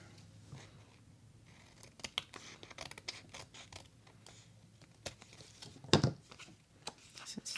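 Scissors snipping through paper for a steampunk Alice covered envelope, a run of quiet, close cuts and crisp rustles with a sharper snap near the end, no voices.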